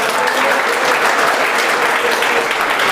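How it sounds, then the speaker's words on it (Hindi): An audience claps in dense, steady applause, loud and close, filling the room without pause at a classroom award event for test toppers. "एक तो आप लोग कंजूसी बहुत करते हो ताली बजाने में।"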